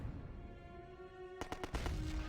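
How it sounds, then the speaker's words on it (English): Howitzer artillery bombardment in the Axis & Allies strategy game: a low rumbling game soundscape, then a quick cluster of sharp booming impacts rolling into heavier rumble, heard faintly and at a distance. "Those howitzers should give these guys a pretty good pounding any second."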